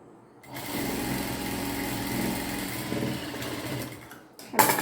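A sewing machine runs steadily for about four seconds while stitching the sleeve of an Angrakha-style kurti, a continuous mechanical whir ending in a brief louder burst.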